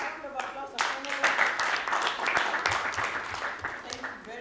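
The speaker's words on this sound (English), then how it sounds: "Okay, give them a round of applause." Audience applause at a summit workshop session, a steady wash of clapping from a room of attendees with some overlapping chatter, moderate in level and fairly close.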